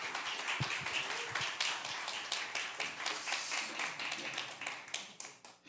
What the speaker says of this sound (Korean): 힘차게 박수하고 모시도록 하겠습니다